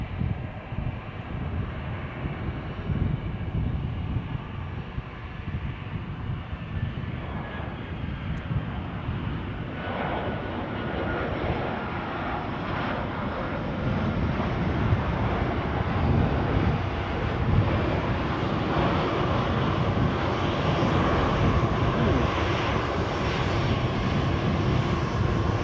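An airliner coming in to land at Edinburgh airport, a broad, steady engine roar that holds loud and unbroken throughout with no voices.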